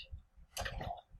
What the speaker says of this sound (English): And I'm typing the address.